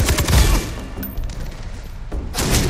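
Gunfire in the Far Cry 3 co-op video game, loud bursts of shots and thuds at the start and end with a quieter stretch between.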